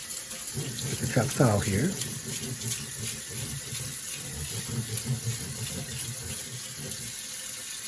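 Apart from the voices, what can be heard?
rinsing and draining glutinous rice with tap water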